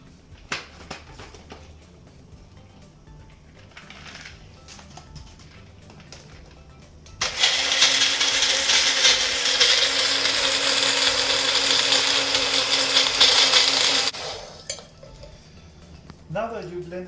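A blender whips a pisco sour with ice and egg white, starting midway with a loud steady roaring whir for about seven seconds, framed by clinks of glassware and kitchen handling before and after.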